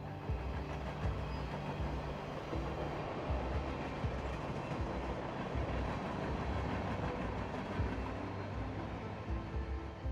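Train crossing the Landwasser viaduct on the Albula Railway in the Swiss Alps, a steady rumble of wheels with soft clickety-clack heard at moderate distance and fairly faint, with no voices.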